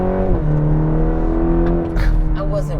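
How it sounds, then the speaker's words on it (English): A 2021 Cadillac CT4-V compact luxury sedan with a 325 hp engine accelerates hard in afternoon traffic, its engine note rising steadily in pitch and staying loud from inside the car, with a voice briefly present. "So as you can see, this car wakes up quite a bit."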